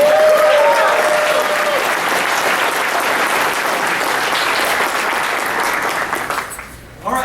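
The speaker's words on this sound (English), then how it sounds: "let's also have a nice round of applause for our translator, Mr. Robert Scott" Loud, sustained audience applause at a fan convention interview, filling the room, a dense wash of clapping that fades out near the end.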